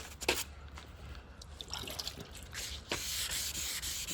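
Sanding block rubbing back and forth on a 1971 Plymouth GTX body panel during repair, a close, steady abrasive scratching with short strokes that turns continuous and louder toward the end.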